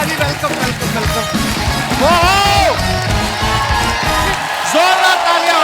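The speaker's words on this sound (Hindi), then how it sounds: "जोरदार तालियां हो रहे, वाह।" Studio audience on a comedy talk show cheers and claps loudly as the wrestler Khali walks on, with whoops and shouts rising over the din and a host's voice speaking through the crowd noise.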